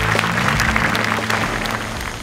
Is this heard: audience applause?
yes